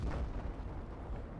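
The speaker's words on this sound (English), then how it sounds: "that explosion is being ray traced again in the whole environment" A V1 rocket explosion in Battlefield V rolls out as a deep, loud rumbling boom with a dense, sustained low roar, heard alone.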